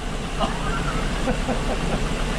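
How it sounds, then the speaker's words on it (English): A Ford V-10 engine runs steadily after a cam replacement, a low, even idle rumble that stays close and constant with no talk over it. "It's running. Gotta let it run a little bit and burn the oil off the exhaust manifold."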